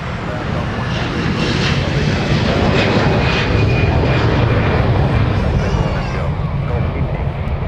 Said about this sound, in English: as our Arizona Cardinals 777 comes in transporting our Special Olympics athletes to Minnesota.